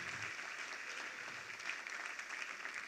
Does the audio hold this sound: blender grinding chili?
no